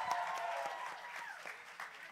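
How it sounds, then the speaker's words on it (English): A crowd at a live album listening party claps and cheers, with scattered claps and crowd noise mixed with background voices. "Y'all clap for yourselves."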